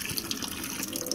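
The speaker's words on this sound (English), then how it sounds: "So I've opened the can and I am going to drain it. Drain this water off." Water pours off an opened can into a sink, a brief, faint, continuous trickle with no voices.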